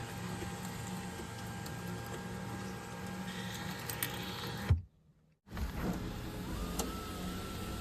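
A Mercedes-AMG CLA45's electric sunroof motor whirs steadily as the large sunroof slides open, stops with a clunk, then a brief pause before the hum resumes.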